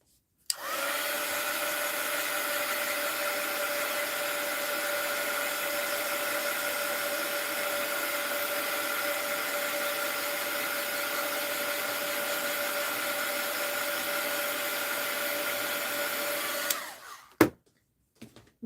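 A hair dryer drying paint on a mixed-media journal page runs loud and close in a steady, even whir for about sixteen seconds, then winds down and clicks off.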